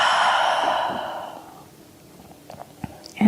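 During a prenatal Pilates exercise, a long, audible breath is let out, loud and close at first, then fading away into quiet, followed by small shuffling movements and a short breathy sound at the end.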